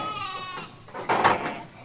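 A sheep bleats inside a barn on a small farm in central Spain, with a wavering call followed by a louder, harsher bleat at close range and no talk over it.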